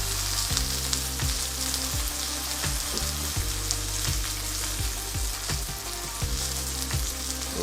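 Steak searing in a hot pan gives a steady, loud sizzle throughout, with a run of quick thuds and scrapes as the meat is turned and pressed, and no talk.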